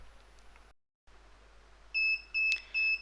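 A hardware security device's buzzer sounds three short, loud electronic beeps in quick succession once it connects to Wi-Fi, following a quiet stretch of faint hum.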